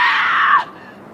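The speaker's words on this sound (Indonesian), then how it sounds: "langsung teriak histeris ketakutan" A woman screams hysterically in fear, a single loud shrill cry held for about half a second before it breaks off abruptly into quiet.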